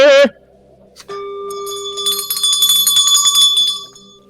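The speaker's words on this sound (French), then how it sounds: "cliquez sur la cloche" Notification bell sound effect: a single bright chime rings out with a clear sustained tone and shimmering high overtones that hold for a few seconds before fading, heard alone without talk.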